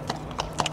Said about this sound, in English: observing the horse trotting up